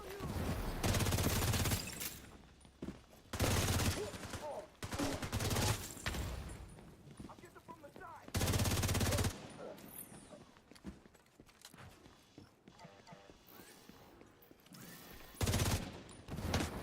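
Loud turret fire in The Division 2, long automatic bursts that repeatedly start and stop over a gap-filled stretch of combat, with someone talking in between.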